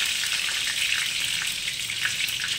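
Dry red chillies, bay leaf, cinnamon and cardamom frying in hot oil in a pan: a dense, steady close-up sizzle with crackling bursts and no talking.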